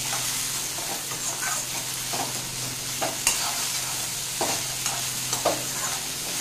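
Sliced okra (bendakaya) being stirred and fried with salt in a pan over a low-to-medium flame: a steady close sizzle runs throughout, broken by scattered scraping clicks of the spoon against the pan.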